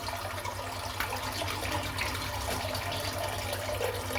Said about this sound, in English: I might just do a bit of cold water now